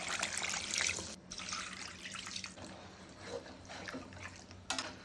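Water is poured into a pot of beef or goat trotters after they have been fried down with spices, giving a steady splashing run that trails into trickles with a short pause, with no talking.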